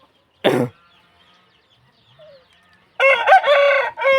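A fighting rooster of the Pa Koi breed on a farm gives a short throaty call, falls quiet, then lets out a loud, long, ringing crow close by.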